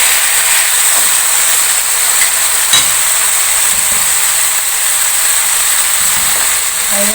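Camel mince kababs frying in a pan, a steady loud sizzling hiss throughout with faint kitchen clatter and no talk.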